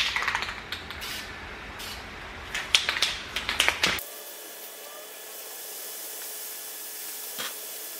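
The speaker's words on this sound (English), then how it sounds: "I'm just going to hold a box up behind the caliper while I spray" Aerosol paint spraying a Brembo brake caliper, a box held behind it to catch overspray: a hiss of short bursts and clicks for the first half, then a steady quieter spray hiss with one brief puff near the end.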